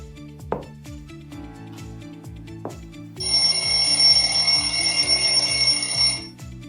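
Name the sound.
classroom timer bell ringing as time runs out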